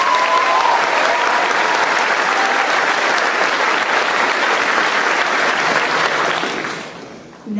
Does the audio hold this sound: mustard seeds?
no